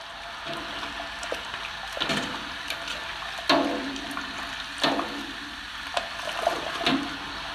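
Running water splashes and gurgles steadily while honey jars are rinsed, with occasional clinks and knocks of glass rising above the continuous wash.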